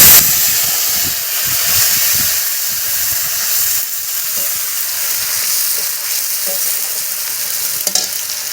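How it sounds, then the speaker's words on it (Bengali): Dry red chillies, whole cumin and whole ginger hit hot oil with a loud, continuous sizzle and hiss, bubbling steadily with light stirring throughout. "সেই তেলের উপরে আমি এই 3-4টে শুকনো লঙ্কা, গোটা জিরে, গোটা আদা 2 চামচ মতো"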